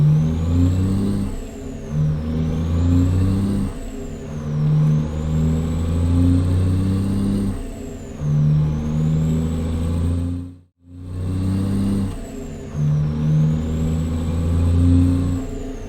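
A Cummins NTC Big Cam 400 diesel engine in a truck in American Truck Simulator pulls away. The loud, steady drone rises in repeated cycles as it works through the gears, with one brief dropout near the end.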